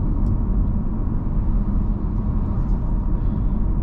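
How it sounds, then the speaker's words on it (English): Steady road and tire roar from a 2023 Audi A5 Sportback 45 Prestige on large wheels cruising at 45 mph, a continuous low rumble with no talking. "So up at 45 miles an hour, a little bit of tire noise, but that has to do with the pretty large wheels on this vehicle"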